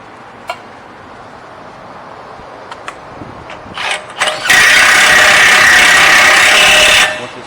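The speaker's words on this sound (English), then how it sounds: "Go ahead and put your axle nut on. Go ahead and tighten that down." A power tool, likely an impact wrench, tightens an axle nut on a Cadillac SRX front hub, a few short taps and brief bursts, then a loud sustained whirring run of about three seconds that stops abruptly.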